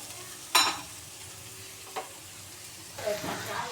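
Crumbled idli is stirred in a pan for idli upma, with a sharp scrape of the spoon, a soft tap, then a quieter scraping stir over a low background hiss.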